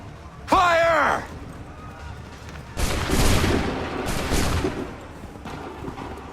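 Soldiers in Assassin's Creed 3 fire a musket volley during the Battle of Lexington and Concord: a shouted command, then a crackling, rolling burst of massed gunfire with scattered shots trailing off afterward.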